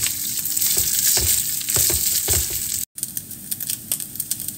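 Rice being stirred and tossed in a hot frying pan, a steady loud sizzle with repeated scraping strokes of the spatula, briefly cut off and then resuming.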